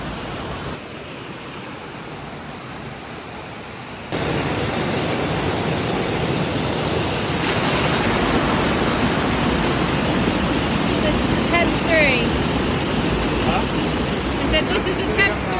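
Water rushes beneath a small makeshift stream dam, a steady broadband roar of flow that grows fuller after a few seconds and stays continuous and close.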